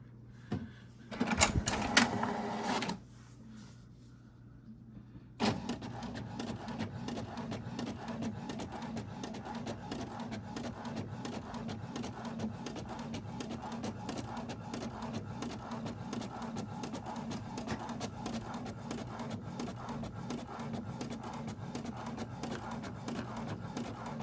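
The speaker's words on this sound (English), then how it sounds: "Okay, so I'm going to click print, and it's only on the first page. It's printing." A home printer runs a page of business cards, a brief whir and clunk followed by a pause, then a long steady rhythmic mechanical chatter of the print head moving close by.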